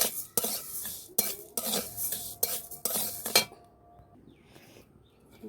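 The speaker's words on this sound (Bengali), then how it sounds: "এবারে কড়াতে আমি চালটা দিয়ে দিলাম। চালটা আমি কিন্তু ধুয়ে আর শুকনো করে নিয়েছিলাম। এবার চালটা আমি একটু ভেজে নেব।" A spoon stirs washed, dried Gobindobhog rice dry-frying in a kadai, with a quick run of loud metallic scrapes and clatters before it tapers off into quieter background noise.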